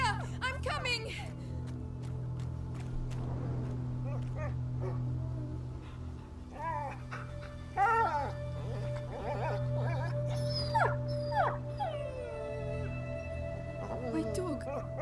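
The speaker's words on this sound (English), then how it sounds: "My dog!" Dog barks, yips and whimpers in the video game A Plague Tale: Innocence, heard in short bursts over a steady low game drone, with characters talking over it.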